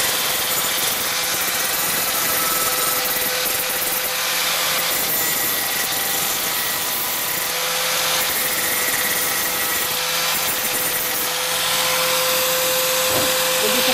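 A power tool grinds rust off metal being prepared for welding, a steady, loud, rasping abrasive roar that runs without a break for the whole stretch under a constant whining tone.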